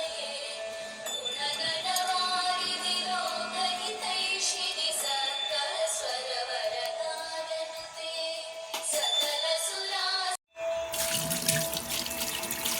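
Tap water runs steadily into a bowl at a kitchen sink, a continuous close splashing stream with a brief break near the end before the flow resumes more brightly; no one speaks.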